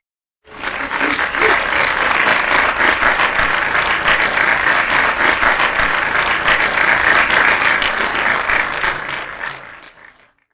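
A recorded applause track plays at a conference closing ceremony, starting abruptly and holding loud, dense clapping for about nine seconds before fading out.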